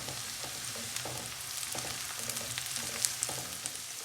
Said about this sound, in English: Now you put your turmeric powder. Give it a stir.